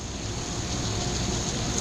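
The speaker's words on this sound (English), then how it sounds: "It's raining." Steady rain falling outdoors at an RV resort campsite, a close, even wash of hiss with no distinct drops and no voices.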